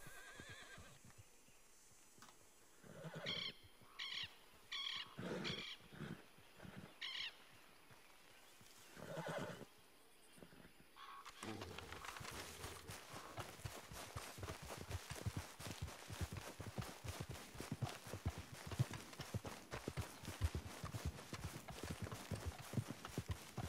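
In a game, a horse whinnies between stretches of quiet, then hooves clatter in a steady clip-clop gallop that continues to the end.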